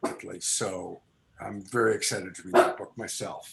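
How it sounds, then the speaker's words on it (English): A pet dog barks a few times in the background while a person keeps talking over it. "That's my dog barking about it."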